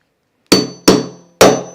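Three sharp metallic hammer strikes on a small anvil during clothes mending, each loud, close and ringing briefly before the next blow, spaced roughly half a second apart.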